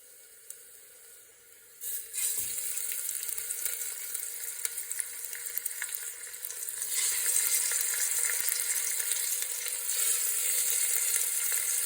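Sardines laid one by one into hot oil with curry leaves in a small pressure cooker over a low flame: a quiet start, then a loud, continuous crackling sizzle that swells further partway through, with no talking.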